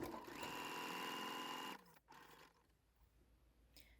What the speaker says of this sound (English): So I'm going to switch out for a walking foot.